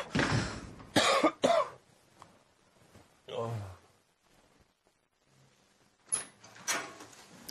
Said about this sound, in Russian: Это плохой кашель.